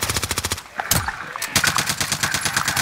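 Close machine-gun fire in a shooter video game rattles in quick rhythmic bursts, breaking off briefly around a heavy impact before another sustained burst resumes, loud and alone with no talk.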